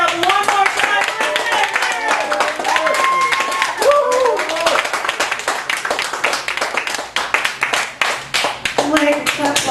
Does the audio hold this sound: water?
no